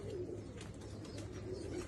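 A pigeon cooing softly over a continuous low hum of background noise, faint and somewhat distant, with no speech.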